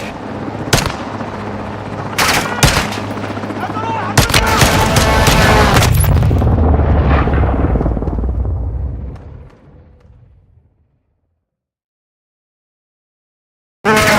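Heavy gunfire and explosions from Modern Warfare 2 multiplayer, loud sharp bursts and sustained rumbling fusillade that fades out to silence, with a sudden burst at the very end.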